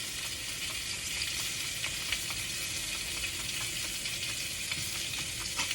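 Steak fillet frying in a pan, a steady dense sizzle with crackling pops throughout, close and even, with no talking.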